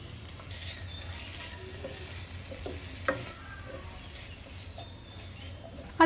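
Tomato and spices being stirred and fried in a pan for an egg roast, a soft steady sizzle with occasional spoon scrapes and a clack near the end.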